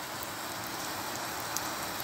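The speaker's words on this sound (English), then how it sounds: "It's seriously pouring." Heavy rain pours down outdoors around a cooking fire, a dense steady hiss of drops close by, continuous and loud with no talking.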